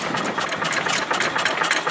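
Restored antique gas engine running and driving a water pump through a gear, a steady rapid chugging and clatter held close and loud for the whole stretch, with no speech over it.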